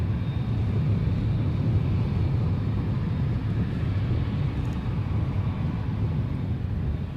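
An airliner departing Edinburgh airport bound for Toronto gives a steady, loud, low-pitched roar that holds evenly through the whole stretch, with no voices.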